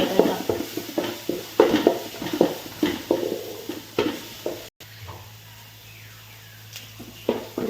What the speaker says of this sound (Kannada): ಜಿಂಜರ್ ಗಾರ್ಲಿಕ್ ಮತ್ತು ಚಿಲ್ಲಿ ಚಾಪ್ ಮಾಡಿದ್ದು. ಇದು ಸ್ವಲ್ಪ ಫ್ರೈ ಮಾಡಬೇಕಂತ.